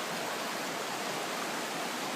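A river flowing around a bend makes a steady, even rushing hiss with no breaks, fairly soft and heard alone without voices.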